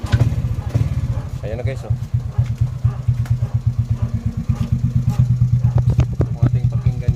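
A freshly cleaned motorcycle engine and exhaust idle up close, a loud, rapid, even chugging throb with a light mechanical clatter, while someone briefly speaks over it.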